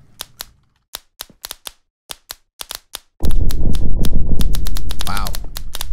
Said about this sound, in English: That sound though, it could drive you crazy. It sounds like typewriters.